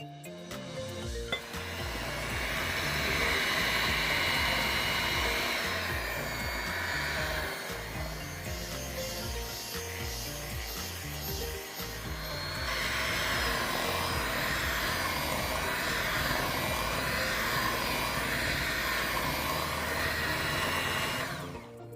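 An electric hand mixer runs on low speed through oatmeal raisin cookie dough, a steady close whir with faint clinks against the bowl that holds for the full stretch, dipping briefly midway before resuming.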